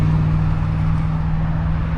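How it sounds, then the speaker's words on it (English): A loud truck drives by close outside a collectibles shop in Archdale, North Carolina, its low engine drone and rumble steady and heavy throughout, with no talk. "Got a loud truck going by,"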